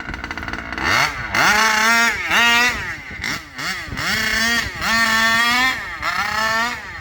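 A rebuilt Rovan 30.5 engine revs at half throttle in loud, close bursts, with about five rising and falling revs and brief dips to a lower idle between them.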